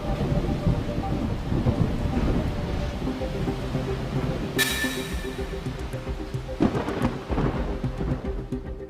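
A thunderstorm roars near Angoulême in France, with constant heavy rain and wind noise and a sudden crack of thunder midway, followed by deeper rumbling rolls, loud and enveloping.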